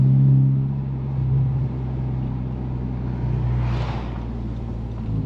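A 2021 Honda Civic Type R Touring cruises with a steady low engine drone and road rumble inside the cabin, with a brief faint swell near the end.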